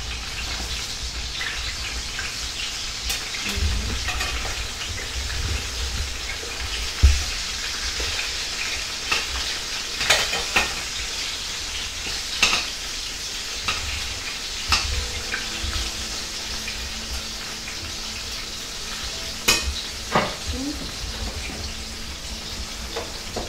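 Aubergines frying in a pan and turned now and then, heard as a constant close hiss of hot oil broken by occasional light knocks of a utensil.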